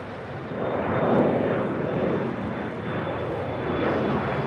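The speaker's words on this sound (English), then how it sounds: "Bill says, Kevin, what is it with all that jet noise?" Jet airliners roar continuously at LAX, a loud, steady engine rumble that swells and holds throughout without any talk.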